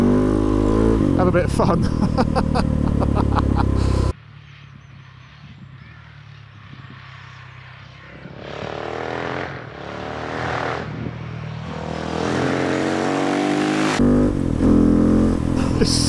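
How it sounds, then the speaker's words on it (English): A KTM 690 SMC R motorcycle with its exhaust baffles removed revs hard, its loud raw exhaust rising and falling in bursts, with a quieter stretch in between and someone talking over it. "So much grunt, and the volume from that Tecmo system, he's going over there."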